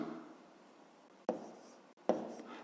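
Pen scratching on paper while writing out a math exercise, steady soft scribbling continuing, then two brief crisper strokes near the end, close and fairly quiet.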